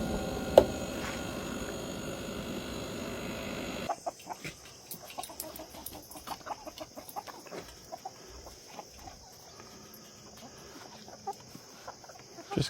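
Laying hens cluck in a backyard coop near a smoking vertical Pit Boss grill, soft scattered clucks and calls spread over a steady background hiss, moderately faint and without talk.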